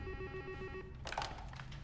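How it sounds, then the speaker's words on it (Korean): A telephone rings in a film scene, a clear electronic ringtone repeating for under a second, followed by a brighter burst of ringing, fairly quiet overall. "위치를 알아낸 비숍은 딘에게 전화를 겁니다."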